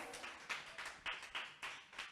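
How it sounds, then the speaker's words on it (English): Scattered applause from a small audience at a book launch, a few quiet bursts of clapping in an uneven rhythm, faint and short. "let's give them a warm round of applause"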